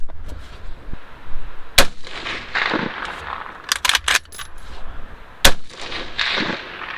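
A Bushmaster ACR DMR rifle fires 5.56 Hornady M193 rounds on a range, a few sharp, loud cracks spaced irregularly with faint rustling between shots.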